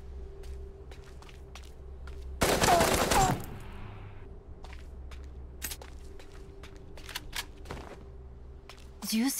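A short, loud burst of rapid gunfire from the video game Super Mecha Champions, followed by scattered single shots and footstep-like clicks over a quiet game background.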